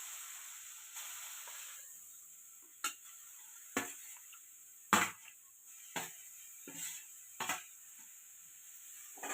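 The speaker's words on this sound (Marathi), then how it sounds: "तूप घातल्यानंतर असा चिक परतून घ्यायचा, 1-2 वेळा हलवून घ्यायचा" Colostrum milk is stirred in ghee in a pan, with a faint low hiss under a series of about eight sharp spatula scrapes and knocks against the pan at uneven intervals.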